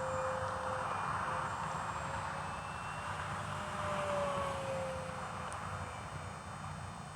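An FMS 1500 mm Cessna Skylane 182 RC model airplane flies aerobatics overhead, its electric motor a steady, faint whine with a slowly changing pitch as it moves through the sky.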